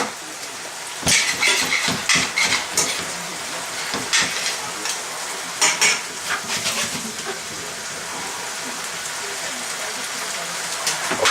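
Pork fried rice sizzles steadily in a pan, with irregular crackling bursts and scraping stir strokes, loudest in the first half, then settling into a continuous frying hiss.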